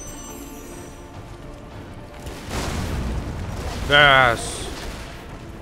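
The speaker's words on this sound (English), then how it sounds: "Explosions. Oh my god, so intense." Explosions in Lara Croft and the Guardian of Light sound as a rolling boom that swells and then ends in a louder, tonal blast, with a player briefly speaking.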